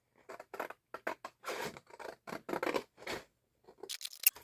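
Scissors cut through paper for a junk journal, a close series of crisp crunching snips in uneven bursts, then a brief pause and a final rustling cut.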